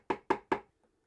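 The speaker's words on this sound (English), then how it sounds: "right in this corner it's not overly straight, so let's just get a chisel out and sort that out" Three quick, sharp wooden taps on a chisel squaring up the corner of a handmade wooden mallet, close and evenly spaced, then quiet.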